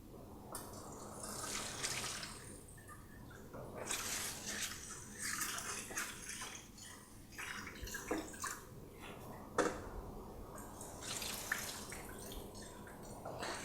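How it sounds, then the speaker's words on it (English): Rice being washed in water makes soft, close sloshing and swishing in uneven bursts, with quiet trickles and drips between the louder splashes. "So now, you wash your rice well enough."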